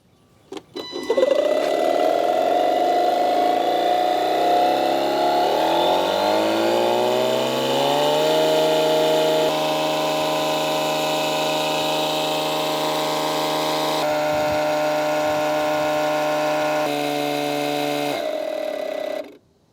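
An Etenwolf Vortex S6 portable tire inflator runs continuously, a loud steady motorized whine that shifts pitch after a few seconds and then holds nearly constant until it cuts off abruptly near the end.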